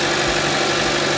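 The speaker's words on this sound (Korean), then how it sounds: "시동 걸고 엔진 소리 한번 들려드릴게요" A 2015 Chevrolet Cruze 1.4 turbo engine idles steadily after a cold start, with a low, even hum and slight vibration, close by and uninterrupted.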